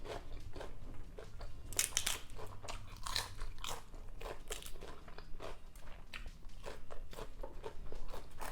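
Crisp, sweet food eaten alongside beef laab and sticky rice gives repeated close, sharp crunches and bites in an uneven chewing rhythm, loud and without talk.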